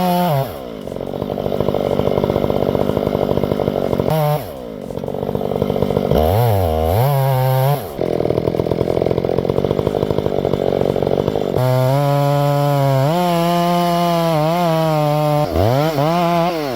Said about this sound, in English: Ever tried cutting eucalyptus? It's notoriously tough on chainsaws.